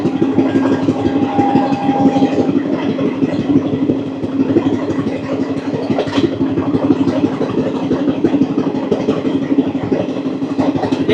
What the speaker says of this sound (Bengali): ট্রেনটা কিছুটা কার্ভ নেবে, কিন্তু যেহেতু যদিও 4 কোচের ট্রেন